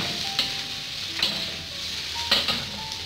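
Young corn frying in a pan, a constant bright sizzle broken by a few clattering stirs of the utensil against the pan.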